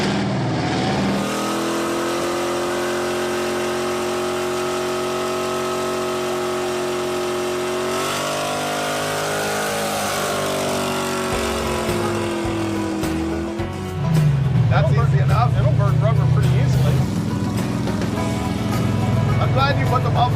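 The Wreck Runner, a scrap-built clone car fitted with mufflers, gives a steady low engine rumble that shifts pitch as it revs, with people talking over it and a louder surge near the end.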